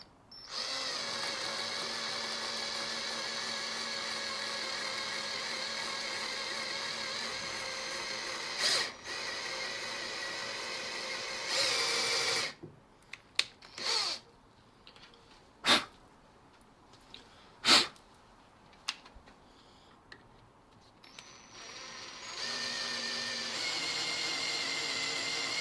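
A power drill with a 9mm bit bores through a guitar headstock toward the truss rod in long steady whining runs. Several short sharp bursts of the drill follow, then a final sustained run.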